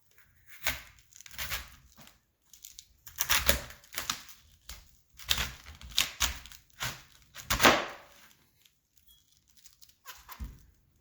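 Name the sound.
knife cutting peeled cabbage in half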